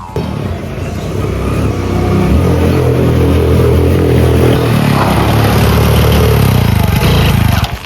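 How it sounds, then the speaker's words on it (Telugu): An old motorbike engine revving loudly and steadily in a village lane, throttle rising after the first couple of seconds and holding a rough, full roar until cutting off near the end. "బండి సౌండ్ గింత వస్తుంది"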